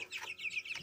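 Newly hatched chicks just moved from an incubator peep in quick, high, thin calls that overlap and repeat steadily, close and fairly quiet, with no talking.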